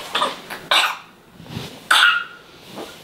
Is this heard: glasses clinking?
no